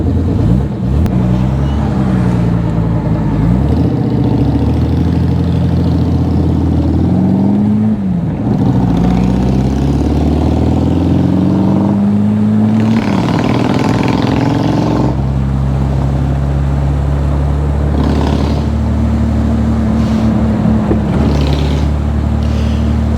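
A Jaguar XK120SE roadster with a lightweight alloy body revs its engine loudly and close by, the pitch rising and falling through repeated throttle blips over a continuous rumbling idle.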